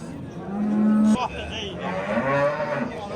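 Cattle mooing at the Beshariq cow market in Uzbekistan, one long loud low moo close by followed by another moo amid market background noise.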